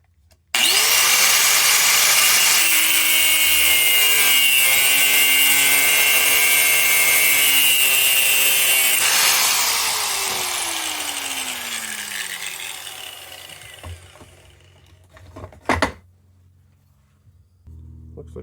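Small Stanley 80 thumbscrew cut with a Shopsmith power saw while held by hand: a loud, steady whining motor drone with a grinding cut, then a falling pitch as the machine spins down, followed by a couple of brief clunks near the end.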